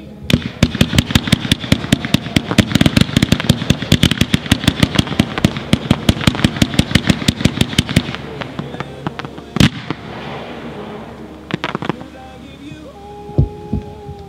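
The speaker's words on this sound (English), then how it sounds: "65-shot Z Twitter glitter to tail to blue pistol with red," A 65-shot firework cake with glitter tails, blue pistils and red, green and yellow falling leaves fires a rapid, loud, evenly spaced volley of pops for about eight seconds, then a few scattered cracks and fizzes follow.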